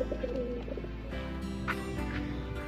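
Racing pigeons at a club loft cooing softly, with repeated low, throaty coos over a steady background hum and a few faint chirps.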